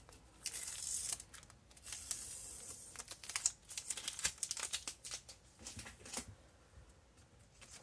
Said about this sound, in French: Maintenant, je peux enlever le ruban de masquage.